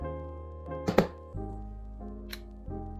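Word cards are shuffled and slid across a table, giving a couple of quick sharp rustling knocks and a brief swish over a low steady hum.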